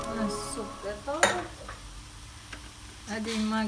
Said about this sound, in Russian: У нас макаронка еще жарит.